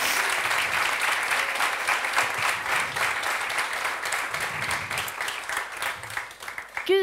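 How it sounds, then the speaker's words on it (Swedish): Audience at a Swedish panel event on youth participation breaks into sustained, loud applause, dense clapping filling the room for the whole stretch before thinning out at the end. "Jag tycker vi gör alla den största applåden vi kan."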